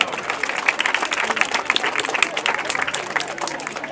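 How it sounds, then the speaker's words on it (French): A school audience claps for pupils at an end-of-year celebration. Many hands make crisp, dense clapping that rises and falls slightly, with a little crowd murmur mixed in. "Applaudissez-les s'il vous plaît."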